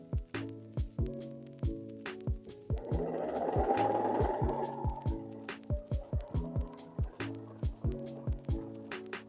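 A sewing machine stitches down the middle of fabric, with quiet, evenly spaced clicks of the needle and a short burst of rougher whirring partway through.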